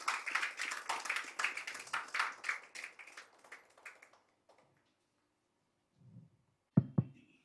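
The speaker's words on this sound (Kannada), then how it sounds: "ನಿಮ್ಮೆಲ್ಲರ ಆರೋಗ್ಯಕ್ಕಾಗಿ ನೀವೀಗ ಮತ್ತೊಮ್ಮೆ ಜೋರಾದ ಚಪ್ಪಾಳೆಯನ್ನ ನೀಡಿ" An audience at a Kannada comedy evening claps loudly in a dense burst of applause lasting about four seconds before fading, followed by a few faint taps and a sharp knock.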